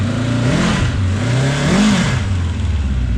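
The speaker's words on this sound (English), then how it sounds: "Wow, it's idling. All 4 carbs are working." Abandoned 750 motorcycle with four carburetors idling after sitting for years, its engine running steadily and loud up close with slight wavering revs, no talk over it.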